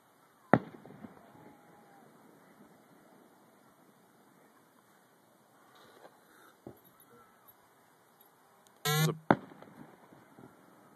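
Fireworks are seen from a height near Mount Fuji: a sharp distant bang, a few scattered softer pops, then a crackling burst and another loud report near the end, set against a quiet hiss.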